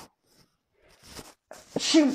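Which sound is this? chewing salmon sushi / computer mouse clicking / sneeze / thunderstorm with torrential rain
sneeze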